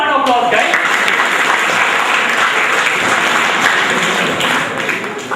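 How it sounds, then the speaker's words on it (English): Loud audience applause for a quiz team at the General B.C. Joshi Memorial Quiz, a dense continuous burst of clapping close and full from the start, briefly following a voice, then tapering slightly near the end. "Give them a round of applause, guys."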